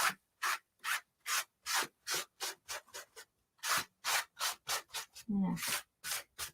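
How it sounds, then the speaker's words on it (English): Salt gets scraped off a surface in a series of short, dry rasping strokes, each a separate scratchy burst with brief gaps between, close and fairly quiet, with no talking over them. "Scrape it off and throw it in my trash."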